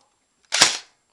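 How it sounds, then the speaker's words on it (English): An AK-74 airsoft gun fires a single semi-automatic shot, one sharp, close crack that fades quickly into silence. "And this is the sound of it on semi,"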